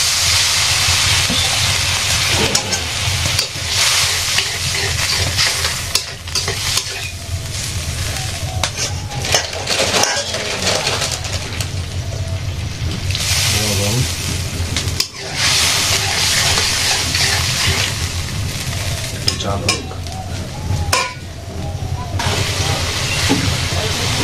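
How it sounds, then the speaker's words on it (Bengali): Water poured into a hot cooking pot in a village kitchen, a loud continuous hissing sizzle with steam that runs steadily throughout, with speech at times. "হালকা একটু জল দিয়ে দিই।"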